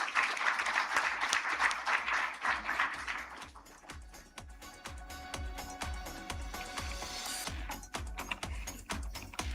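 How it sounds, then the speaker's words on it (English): A conference audience at the e4m OOH event applauds. Dense clapping opens the passage, then thins into a steadier, more rhythmic run of claps as music or a room tone sits underneath. "please give them a big, big round of applause"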